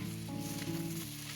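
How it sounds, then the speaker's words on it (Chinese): Carrots, potato slices and sausage are stir-fried in a hot wok, giving a steady close sizzle with faint stirring noise over a low humming background. "这时候把胡萝卜和土豆片倒进去翻炒，接着再把我们切好的香肠放进去翻炒"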